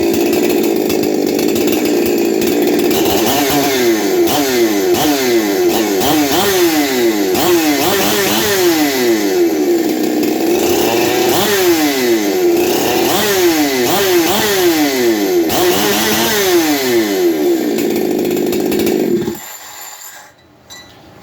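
A Chinese clone of a Husqvarna 372 chainsaw runs loud and close, its two-stroke engine repeatedly revving up and dropping back in rising and falling sweeps for about nineteen seconds before cutting off abruptly into near silence.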